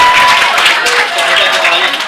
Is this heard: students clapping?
yes